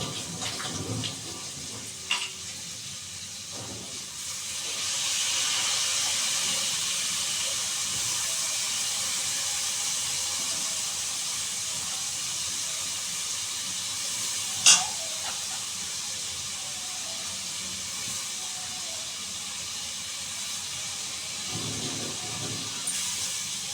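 Rice and dal fry in a hot pan with a steady broad hiss, with a couple of sharp clinks from a utensil partway through.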